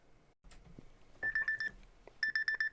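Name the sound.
alarm going off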